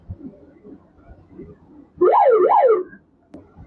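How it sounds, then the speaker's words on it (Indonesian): A Sany SCC750A 75-ton crawler crane's alarm gives a loud, warbling two-tone wail lasting just under a second, set against quiet cab sounds and faint speech. "ada beberapa tombol-tombol alarm yang bisa kita gunakan saat kerja"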